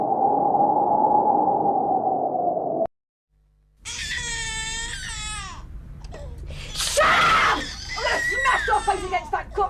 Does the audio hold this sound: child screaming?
yes